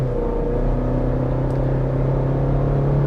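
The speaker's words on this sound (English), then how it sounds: "away from a stoplight, I'm giving it a good bit of throttle" A 2024 Chevrolet Colorado Z71 pickup towing a trailer pulls away from a stoplight under moderate throttle, its engine giving a steady, loud, low droning rumble that holds evenly throughout.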